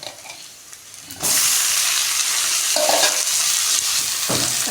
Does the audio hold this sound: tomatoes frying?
yes